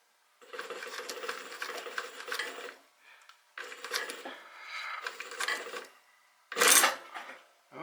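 Singer 111 industrial sewing machine driven by a servo motor stitching in several bursts of steady mechanical whirring and rattling, with short pauses between runs and a sharper clatter near the end.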